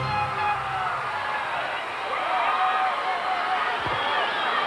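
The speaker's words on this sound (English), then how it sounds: "A big cheer from the crowd for those Cowboys." Large outdoor crowd cheering for the Dallas Cowboys at a 1993 Super Bowl parade at City Hall Plaza, a steady distant roar of voices and whoops, slightly muffled as from old tape.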